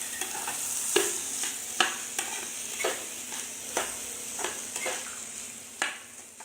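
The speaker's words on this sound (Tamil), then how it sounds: "நல்லா கிளறி விட்டுட்டே இருங்க. அடுப்பை சிம்மில் வச்சு கிளறி விடுங்க." Ragi kichadi being stirred in a pan over low heat, with a steady sizzle and a regular series of sharp spoon scrapes roughly once a second, close and alone.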